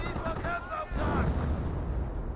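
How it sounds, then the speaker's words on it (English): A 25-pounder artillery barrage rumbles in a Company of Heroes 1 battle, heavy low booms rolling in close and loud beneath a commentator's voice. "25-pounder barrage."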